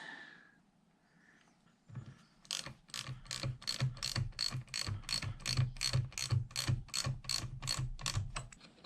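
A ratchet spanner on a 7/16 fastener during a Harley-Davidson throttle rebuild, clicking in a fast steady run of loud close pawl ticks after a short quiet start.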